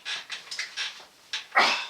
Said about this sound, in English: Oh, you big fat dog.